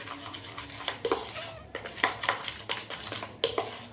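Homemade slime made without baking soda being stirred in a container as glue is added, soft scraping and rubbing strokes with occasional light clinks of the utensil, quiet and close.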